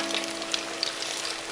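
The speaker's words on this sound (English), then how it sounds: "You want to start it frying a little bit before you drop it so it doesn't stick to the cage on the bottom" Battered fish sizzles in a deep fryer basket, a close, steady crackle of hot oil with small pops scattered throughout.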